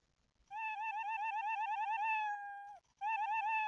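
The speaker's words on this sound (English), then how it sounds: "So now every time I click the cat, it meows." A cartoonish cat meow sound effect, triggered by a click in a simple Scratch-to-Godot game, plays as one long wavering meow followed by a second one starting after a brief gap, clear and alone.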